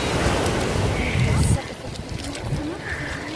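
Sea waves wash and rumble steadily along a shore in gusty, overcast weather, a broad roar of surf that swells briefly louder before easing back, with wind noise over it.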